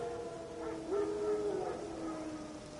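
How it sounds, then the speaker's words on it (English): Wild dogs howl in The Witcher 3: Wild Hunt, a single faint, drawn-out howl rising out of quiet ambient noise, heard from a distance. "No. Wild dogs. Yes. More dangerous than wolves."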